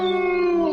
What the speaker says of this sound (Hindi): बाहर कुत्ते लगातार भौंक रहे थे।